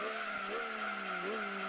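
Daimyo car engine in Gran Turismo 2, a whirring, washing-machine-like drone that holds steady with slight pitch wobbles as the car runs, moderately loud and alone.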